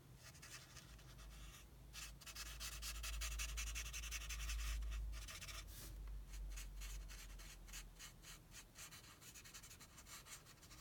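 Light Calypso Coral marker rubbed back and forth across a card, a close scratchy scribbling in steady strokes with brief pauses.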